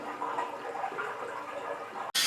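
Water rushes steadily into a newly installed Rheem hybrid electric water heater during filling, a loud continuous flow that cuts off abruptly near the end before a brief burst of noise.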